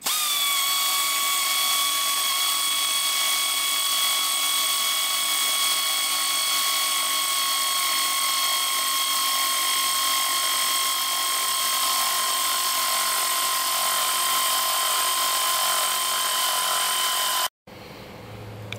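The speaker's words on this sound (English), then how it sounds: "So I'm going to screw these together, lag bolt them on" A power drill drives screws and lag bolts through the wooden legs of a hand cart built for an IHC LA engine, a steady high whine running close and loud for about seventeen seconds before cutting off abruptly.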